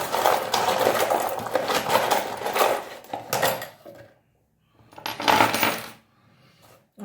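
Runes and charms are cast for a reading and clatter down in bursts of small hard objects rattling and clicking together. A quiet gap falls between the bursts.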